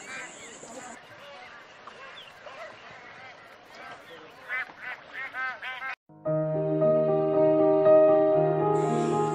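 Bar-headed geese call in the Kaziranga wetland in Assam, a burst of nasal honks and quacks amid a busy flock, partly under narration before music takes over.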